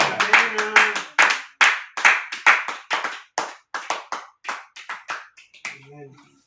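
A church congregation claps in unison to acclaim the sermon, a steady run of sharp, loud, rhythmic claps that fades to scattered claps and a little murmur at the end.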